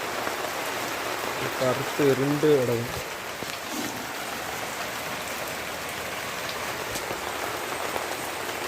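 Rain falls in a steady, soft patter across the whole stretch, with a person speaking briefly over it early on.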